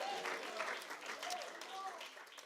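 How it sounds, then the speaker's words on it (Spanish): Church congregation clapping during a Spanish-language sermon, a faint, steady patter of applause with speech audible over it. "denle un aplauso al Señor"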